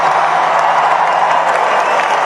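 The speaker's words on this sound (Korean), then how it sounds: "이때 가장 큰 함성이 일어났죠." A large crowd at a Donald Trump political rally roars and applauds, a dense, loud, steady wall of cheering and clapping that holds throughout without a break.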